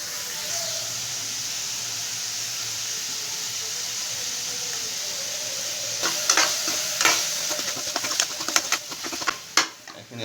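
Catla fish masala curry simmers and sizzles in a pan with a steady hiss; in the last few seconds irregular clicks and scrapes of stirring come in close over it.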